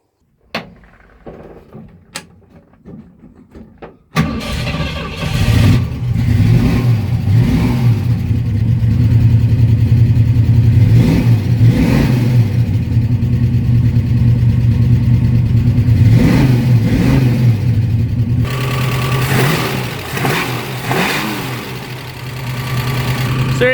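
A Ford small block V8 fitted with a new HEI distributor cranks briefly, catches and runs, then revs up and down repeatedly in a steady, loud idle close by, with a few clicks before it fires.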